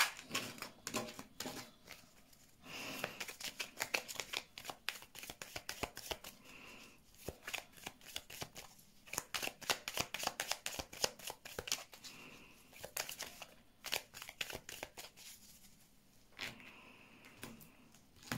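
Tarot cards are shuffled and drawn in a long run of dense papery riffles, flicks and slaps, heard up close and continuous with no talk over them.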